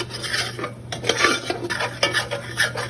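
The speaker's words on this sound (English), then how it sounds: "just continue stirring this and let it get brown" A utensil stirs a browning Salisbury steak mixture in a pan, with repeated scraping and clinking strokes against the metal in an uneven rhythm, close and fairly loud over a low steady hum.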